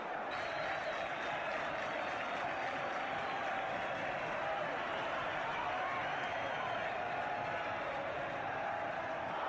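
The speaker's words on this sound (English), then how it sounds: "the crowd are booing and some of them are cheering" A 1974/75 football crowd at a Queens Park Rangers match gives off a constant roar of booing mixed with cheers. The broad stadium noise stays steady and distant throughout.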